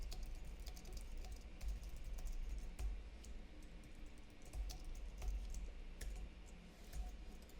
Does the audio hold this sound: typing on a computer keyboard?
yes